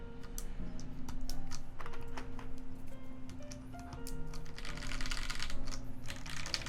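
Rapid typing on a mechanical keyboard fitted with vintage black linear switches, stem-swapped and lubed, gives a steady stream of close, clacky keystrokes with no talk over it.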